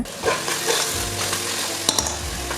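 Tomatoes with salt stirred in a hot pan for mushroom biryani give a steady close sizzle and frying hiss, with a couple of sharp utensil scrapes near the end and no voices.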